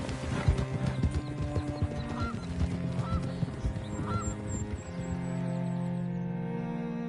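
Horse hooves clip-clop in a steady, close rhythm in the Red Dead Redemption 2 video game, with a brief whinny and honking fowl calls mixed in before the hoofbeats give way to a sustained tone.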